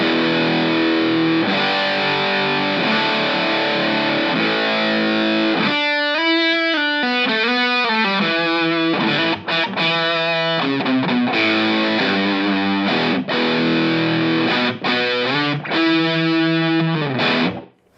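Electric guitar through a rare EQD overdrive pedal set to asymmetrical clipping, giving a crunchy, full tone as sustained chords and then picked single-note phrases and bends ring out alone, loud and steady.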